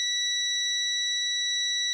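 A multimeter's continuity beep sounds as a transistor is probed, a single steady pure electronic tone held loud and unbroken for about two seconds with no other sound.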